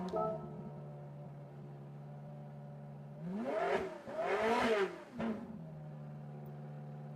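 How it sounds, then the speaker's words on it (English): A Suzuki Vision GT engine swapped into a car in Gran Turismo 7 idles with a steady hum, then revs hard twice in quick succession before settling back to idle. "now it has the engine from the Suzuki Vision GT"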